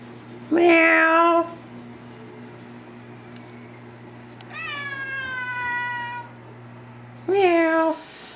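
A cat gives two loud, close, strained meows about seven seconds apart, with a softer, longer, drawn-out meow-like call between them, over a faint steady hum.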